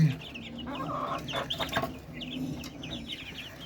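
Hens cluck repeatedly and irregularly nearby on a home balcony, several birds overlapping, with a few sharper squawks in the middle.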